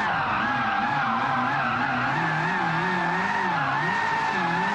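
Video game car doing a nighttime burnout on a cold road, tires spinning and skidding in a steady, loud squeal with a wavering engine drone underneath, continuous throughout with no talking.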